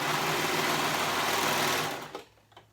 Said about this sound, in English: I'm gonna go ahead and serge that edge together, and then the other edge together as well